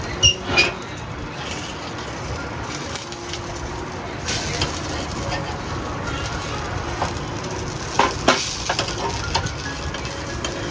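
A ghavane, a thin rice flatbread, fries in a pan after being flipped. A soft, steady sizzle runs the whole time, with a few faint scrapes and clinks, and no talking.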